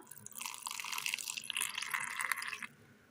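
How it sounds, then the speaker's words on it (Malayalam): A short pour of water splashing into a pan of curry, close and gurgling for about two seconds before stopping. "ഇതിലേക്ക് ഒരൽപ്പം വെള്ളം ഒഴിച്ചു കൊടുക്കാം"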